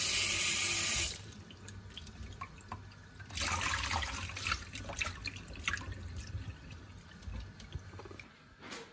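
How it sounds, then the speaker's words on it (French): Rice cakes for tteokbokki are rinsed under running tap water in a sink, a steady splashing stream with shifting bursts as hands move them about, close and fairly quiet. "On peut les laisser dans l'eau froide ou on peut juste les nettoyer comme ça."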